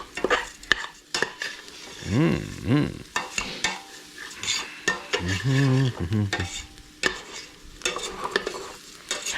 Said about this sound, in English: Now we're gonna stir that until all the rice is coated with the fat.